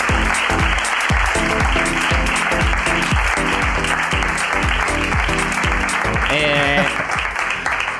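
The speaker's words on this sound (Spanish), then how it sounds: "Un aplauso, Andrea." An audience claps warmly for a guest named Andrea at a live Spanish comedy show. The dense, steady applause lasts the whole stretch, with low rhythmic thumps underneath and a brief voice near the end.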